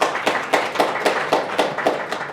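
Hands clap in a steady, evenly spaced rhythm at a panel discussion, the sharp claps close and fairly loud with no talk over them.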